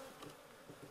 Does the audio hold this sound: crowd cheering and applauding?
no